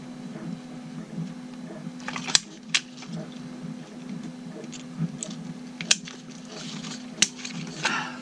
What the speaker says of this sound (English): So that's the holes punched